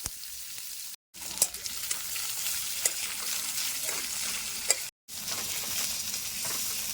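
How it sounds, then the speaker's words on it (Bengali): Onion frying slowly in oil with whole garam masala and cumin over a medium flame for mutton kosha, a steady close sizzle with occasional stirring clicks, broken by two short silent gaps. "তারপর পেঁয়াজটা মিডিয়াম ফ্লেমে আস্তে আস্তে ভাজবো তো।"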